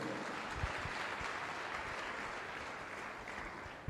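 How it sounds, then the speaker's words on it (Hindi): A church congregation claps together in a steady, dense wash of applause that holds at an even level throughout, ending with a sharp knock. "ताली बजाओ परमेश्वर के लिए।"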